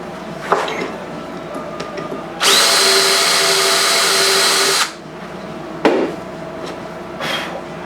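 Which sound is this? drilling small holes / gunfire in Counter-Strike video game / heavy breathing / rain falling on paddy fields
drilling small holes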